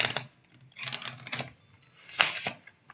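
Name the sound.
playing cards being riffle shuffled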